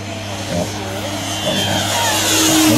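A turboprop scale model RC airplane drones steadily overhead during a flying display, its whining engine tone slowly rising and growing louder as it circles closer.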